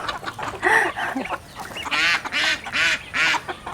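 Ducks on a farm quacking in repeated nasal bursts, several loud calls close by with short gaps between them.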